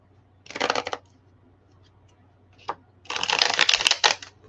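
A deck of playing cards being shuffled at a table, two crisp riffle bursts, the first short and the second longer, with a single tap between them, close and distinct against quiet room hum.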